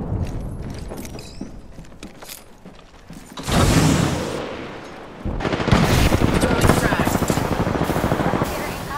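Gunfire in the Apex Legends video game comes in dense, loud automatic bursts, first a short volley and then a longer sustained stretch, with mechanical clicks and a voice in between.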